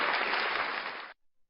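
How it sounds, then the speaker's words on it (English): An audience gives a round of applause for Erica, a dense burst of clapping that runs steadily for about a second and then cuts off abruptly, leaving near silence. "You don't give Erica a round of applause"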